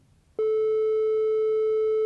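A steady synthesizer triangle wave tone starts abruptly and holds at one pitch, smooth and slightly hollow, sounding alone at a moderate level.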